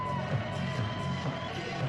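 Arena crowd at an ice hockey game giving a standing ovation after a win, a steady dense roar of cheering and whoops filling the space without a break.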